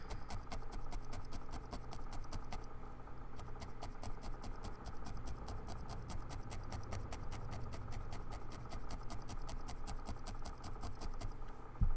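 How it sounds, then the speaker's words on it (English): Steady mechanical hum with a fast, continuous rattling tick over it from a nearby electric fan, faint and constant throughout. "So if you're hearing that, it's sort of like a rattly hum. That's his fan."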